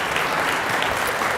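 An audience claps at a high school hall of fame banquet, a dense steady round of applause from a crowd filling the room with no pauses.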